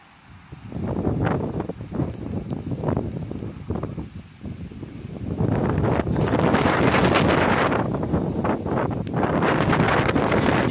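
Strong gusts of wind during a thunderstorm in Isère, with a louder, sustained roar building from midway after quieter buffeting bursts, the rushing noise broad and close against the microphone.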